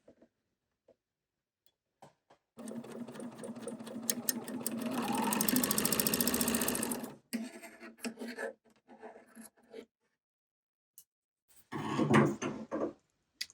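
A serger stitches a T-shirt seam allowance in one long steady whirring run near the mic, then stops; a few shorter bursts and handling rustles follow, with a final brief run near the end.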